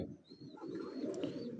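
A pigeon coos softly on a Faisalabad rooftop, a low, rounded murmur with a faint chirp above it, fairly quiet and alone.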